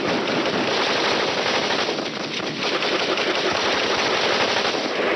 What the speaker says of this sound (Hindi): एकाएक उनकी टीम पर आतंकवादियों की ओर से मशीन गन द्वारा भारी गोलाबारी शुरू हो गई।